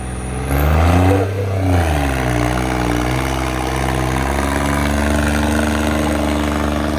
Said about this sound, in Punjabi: ਟਰੈਕਟਰ ਦਾ ਵੀ ਹੁਣ ਸੋਨਾ ਚੱਲ ਰਿਹਾ ਏ